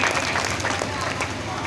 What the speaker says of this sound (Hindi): मैं चाहता हूँ कि इनके लिए जोरदार ताली बजाइएगा